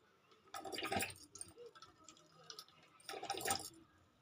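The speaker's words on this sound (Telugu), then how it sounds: "నేను ఒక స్టీల్ గిన్నె తీసుకున్నానండి ఇందులోకి మొత్తం కోకోనట్ ఆయిల్ వేసేద్దాం" Coconut oil is poured into a steel bowl in two separate splashing, gurgling bursts with a quieter pause between them, close and fairly soft.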